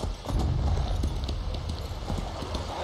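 Rapid rhythmic hoofbeats of a galloping horse in The Elder Scrolls Online, steady and fairly close, over a broad rushing background.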